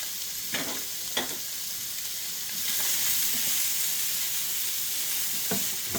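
Peppers and cherry tomatoes fry in a pan over a gas flame, giving a steady close sizzle with a few sharp stirring clicks near the start and end. The sizzle swells louder through the middle.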